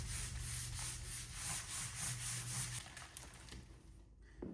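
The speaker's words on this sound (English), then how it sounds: "Nice rub down. Make sure that glue sticks nice." A glued surface on a dock kit being rubbed down by hand, continuous close scraping and sanding-like friction in even back-and-forth strokes that fade out near the end.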